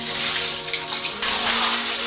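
Water pours steadily into a saltwater lagoon reef aquarium, a continuous close gushing and splashing with a slight change in flow partway through.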